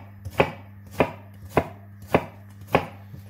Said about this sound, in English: Chop it as finely as you can.